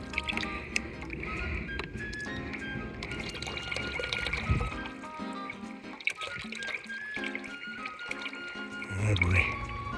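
Fresh rainwater draining and trickling out of an MGB 18GB engine into a tub, with a soft, irregular pouring and splashing heard under ongoing speech.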